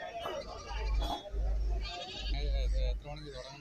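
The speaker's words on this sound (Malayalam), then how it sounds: "ഇനിയും കുറെ മുട്ടനാടുകൾ ഈ ഭാഗത്ത് നിൽപ്പുണ്ട്." Male goats bleat at a goat market in Kerala, with several short calls mixed under someone talking steadily close by.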